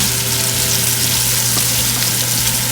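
Pork and liver frying in a pan for adobo, a dense, loud, continuous sizzle and crackle heard up close with no talking.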